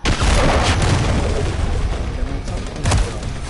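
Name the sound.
cruise missile explosion in a video game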